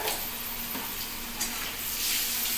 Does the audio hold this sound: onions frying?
yes